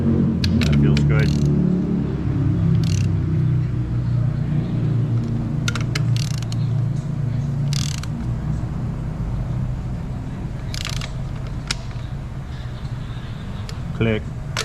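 A torque wrench clicks sharply several times while tightening an oil pressure switch in a car repair shop. The brief snaps sit over a low, constant shop rumble.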